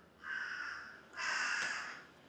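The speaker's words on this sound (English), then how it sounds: "oh my gosh, these crows." Crows cawing in Kurashiki, Japan, a canal town: two harsh, drawn-out caws in succession, moderately distant and fairly faint over low background hiss, with no voices.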